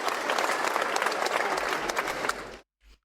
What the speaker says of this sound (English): Let's give a round of applause to the Division 8 All-Stars and MVP, Exam.